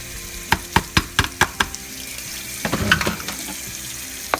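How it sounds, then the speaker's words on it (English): Ground beef is dumped into a slow cooker as a quick series of sharp clacks and thuds, followed by a soft, wet squelching rustle as the meat settles into the crock. "take my lid off and go ahead and dump that ground beef in there"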